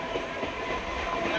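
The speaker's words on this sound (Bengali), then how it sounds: "ট্রেন ঢুকে গেল মল্লিকপুর স্টেশন" A suburban train rolls into Mallikpur station with a steady rumbling roar and faint rhythmic wheel clatter, close by and continuous, no voices.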